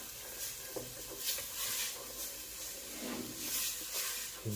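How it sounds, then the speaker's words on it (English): Garlic and onions fry in a pan with a soft, steady sizzle and hiss, quiet and continuous, with faint stirring pulses under it. "There's no better smell than garlic and onions being fried in a pan."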